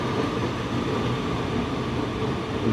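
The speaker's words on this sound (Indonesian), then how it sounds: "Nih KRL CRRC diberangkatkan dari jalur 4 stasiun Bekasi" Steady rumble of a CRRC electric commuter train pulling away from platform 4 at Bekasi station, a continuous low mechanical drone with no voices, close and fairly loud throughout.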